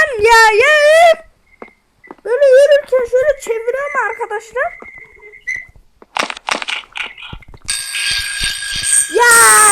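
A bright, sustained electronic bell rings near the end in the video game Specimen Zero, loud and steady, after stretches of high, wavering voices and scattered clicks and crunches.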